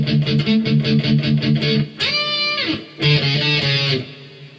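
Electric guitar fill leading into the solo of a song, a run of quick picked notes giving way to sustained, ringing chords with a sliding bend, played alone at close range.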